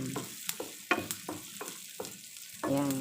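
Onions sautéing in a pan for butter shrimp, a steady sizzle broken by repeated sharp scraping and stirring knocks, close and fairly loud, with no talking.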